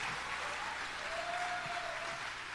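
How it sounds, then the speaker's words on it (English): A crowd applauds steadily throughout, a dense, even wash of clapping from many hands. "give yourself a round of applause there"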